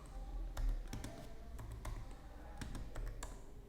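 Keys on a computer keyboard are tapped at an irregular pace, with sharp individual clicks spaced out over a few seconds, close and fairly quiet, with no talking.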